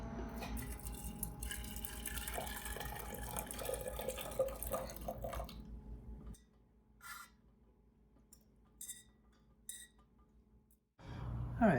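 Boiled wulong tea is poured out from a glass cup, a splashing stream for several seconds that gives way to scattered drips and light clinks, then quiet.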